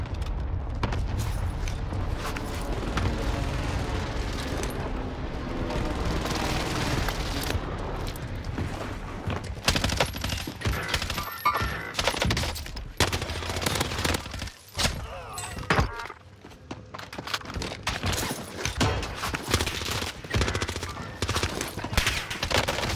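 Dense bursts of gunfire rattle in Call of Duty Warzone on Rebirth Island, with rapid volleys and scattered shots that grow louder and more chaotic toward the end.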